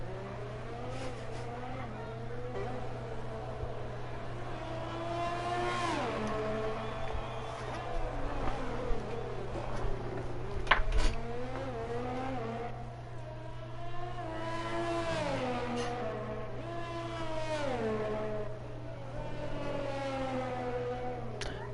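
An F1 car engine on a hot lap around the Vietnam Grand Prix circuit in an F1 video game, a high-pitched wail that rises and falls through gear changes, steady and continuous, with a constant low hum underneath.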